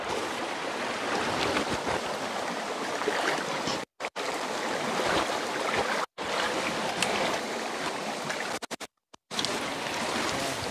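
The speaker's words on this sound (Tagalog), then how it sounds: "Maririnig mo yung agos ng tubig na napakasarap." Steady rushing river water runs continuously with a broad wash of noise, broken by a few brief dropouts; close and fairly loud, no talking.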